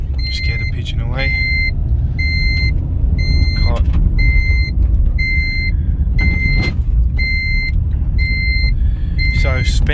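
Vauxhall Agila Design car engine pulling under light throttle: a steady, loud low rumble from inside the cabin, overlaid by a regular two-tone warning chime repeating about once a second, with muffled voices underneath.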